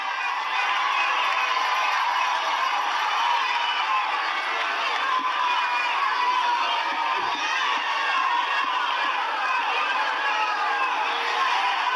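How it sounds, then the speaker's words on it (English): Crowd applause and cheering at a civic stage event, a continuous loud roar of clapping and whoops held steady for the whole stretch, with scattered voices inside it. "Round of applause."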